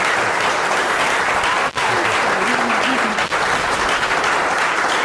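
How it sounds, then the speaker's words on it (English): An audience at a Virginia Republican congressional debate between McAdams and Fenty gives steady, close applause for about five seconds, with a couple of momentary dips in the clapping. "We can give them applause here."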